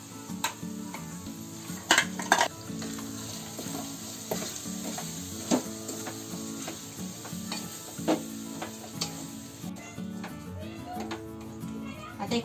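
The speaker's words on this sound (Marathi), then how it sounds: "आता आपण जेव्हा ही आता कोलंबी टाकली ना, टाकल्याच्या नंतर आहे ना सतत म्हणजे सारखं ढवळत राहायचं" Marinated prawns being stirred in a spiced gravy while frying for a prawn and cauliflower curry, with steady sizzling and repeated scraping clinks of a spoon against the pan, under intermittent talking voices nearby.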